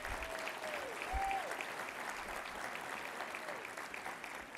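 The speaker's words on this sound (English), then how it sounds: "Stand up and everybody give them a round of applause." A hall of fame banquet crowd applauds a family's five children, a faint, even wash of clapping at a distance with a few brief squeaks and thumps in the room.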